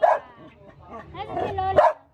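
A dog barks in a few short, close yaps at the start and end, with people talking around it.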